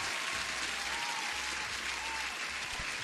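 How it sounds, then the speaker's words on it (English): Applause sound effect on a live stream, a dense, even burst of many clapping hands lasting a few seconds, loud and continuous. "you deserve an applause as well as a new subscriber"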